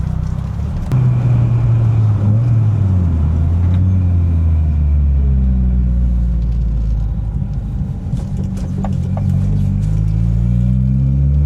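A Mitsubishi Evo engine pulling at half throttle, a loud, close, continuous droning rumble whose pitch slides up and down as it runs, with a few sharp clicks near the end.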